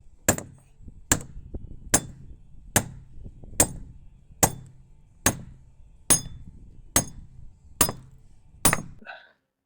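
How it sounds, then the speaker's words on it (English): Sledgehammer blows on steel bolts during house framing, eleven sharp metallic strikes at a steady rhythm of roughly one per second, close and loud, each ringing briefly before the next. "Need to be careful if you're going to use a sledgehammer, because you can bend the bolts and then you can't get the nut on."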